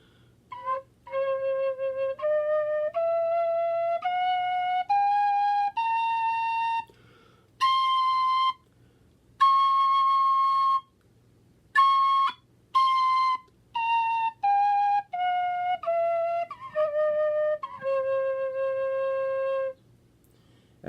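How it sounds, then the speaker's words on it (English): C tin whistle playing a scale, clear pure notes rising step by step and then falling back, with short gaps between some notes, close and alone. "I'm gonna use the C whistle to play the scale"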